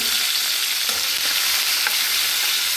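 Steady, bright sizzling of curry leaves tempering in hot oil, continuous and close, with no voices.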